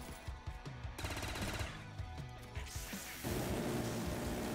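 Death Machine minigun from Call of Duty Zombies firing in rapid sustained bursts, a dense mechanical rattle of gunfire that swells louder toward the end, with no talk over it.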